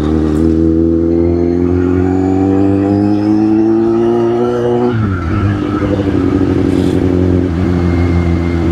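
A Kawasaki Z800 motorcycle accelerates hard and loud from close by, its engine note climbing steadily, dropping at a gear change, then pulling up again.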